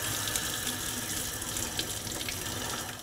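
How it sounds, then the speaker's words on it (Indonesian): Water running steadily as half-cooked quinoa is drained in a kitchen sink, a constant close splashing rush lasting a few seconds without speech. "Nah, ini udah mateng si kinoanya, setengah mateng sih. Aku mau tiriskan dulu."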